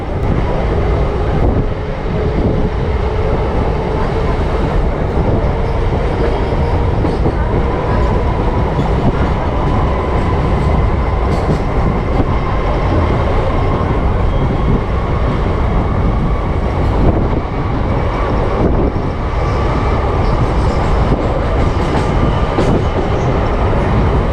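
A crowded local passenger train on the Howrah–Midnapore line crosses the Kangsabati river bridge just before Midnapore, heard from inside the coach as a loud, steady, continuous rumble and rattle with no talk.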